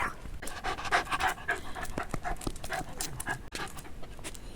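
A small dog pants excitedly in quick, rhythmic breaths close by, with faint shuffling and a few whimpery catches, no talking during it.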